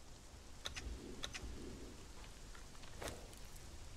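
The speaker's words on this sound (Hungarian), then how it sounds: "jelenleg itt esik az eső is" Rain falls steadily outside at dawn, a soft even patter with scattered sharper drops and a faint low rumble, quiet and distant-sounding, no voices.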